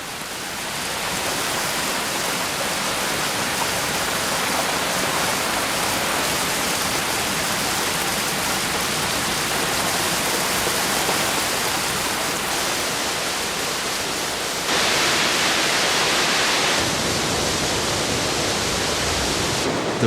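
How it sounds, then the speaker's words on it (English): Waterfalls pour down canyon walls in Zion National Park, a broad, steady roar of rushing water that fills the whole stretch without letup, swelling slightly louder toward the end. "a wonderland of waterfalls"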